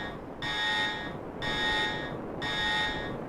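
A base door alarm in the space game Space Engineers sounds as a loud, repeating tonal buzz, three long pulses with short gaps between them, alone with no talk.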